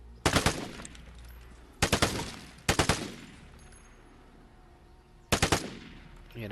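Automatic gunfire at the gun range in the video game Vigor: four short, loud bursts of rapid shots with quiet gaps between them, heard alone without talk.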